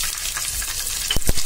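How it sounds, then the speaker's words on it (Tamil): Mustard seeds and fenugreek splutter in hot oil, a close, continuous sizzle punctuated by a few sharp pops near the end. "கடுகு பொரியட்டும். வெந்தயம், இது ரெண்டும் பொரியட்டும்."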